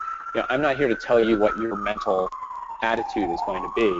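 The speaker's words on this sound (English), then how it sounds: "I apologize for the sirens in the background." Wailing siren sweeping slowly in the background throughout, continuous under a man's steady speech.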